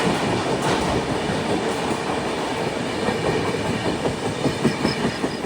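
Duronto Express sleeper train moving at moderate speed, a steady rumbling roll with rhythmic clickety-clack of wheels over rail joints heard from inside the coach, continuous and fairly loud throughout.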